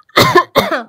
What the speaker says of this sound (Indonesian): Ntar gue batuk dulu. Gue udah nahan batuk kan ya.